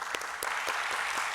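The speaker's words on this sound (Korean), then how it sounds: "우리 한번 박수로 뜨겁게 환영할까요?" A church congregation gives a brief round of warm applause during a worship service, with close, fairly steady clapping and a few sharp individual claps standing out.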